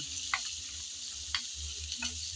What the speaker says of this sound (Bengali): হলুদটা দিয়ে আবারও একটু নেড়ে চেড়ে ভালোভাবে মিশিয়ে নিচ্ছি